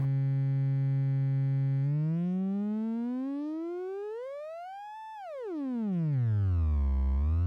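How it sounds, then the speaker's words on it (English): Turing Machine Eurorack module run as an oscillator in a Doepfer modular synth, a buzzy harmonic tone holding steady, then gliding smoothly upward in pitch, peaking, and sweeping back down low, alone and unbroken. "let me demonstrate this by turning up the pitch of the Turing machine output"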